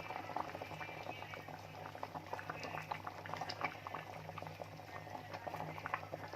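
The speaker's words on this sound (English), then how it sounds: "Now I'm adding the fish to this one by one." Fish pieces are dropped one at a time into a pot of curry at a rolling boil, giving steady close bubbling and gurgling with small irregular plops throughout.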